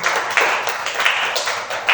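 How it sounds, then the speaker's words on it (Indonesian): Students in a lecture room on camera composition give a short round of applause for a classmate, a dense patter of nearby hand claps that holds steady, then tails off. "Dengan tepuk tangan buat teman kita"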